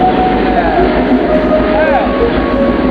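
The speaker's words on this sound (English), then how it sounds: "and a train going through." A freight train passing during a train-hopping trip near Green River gives a loud, steady rolling rumble with high metallic squeals and tones riding over it throughout.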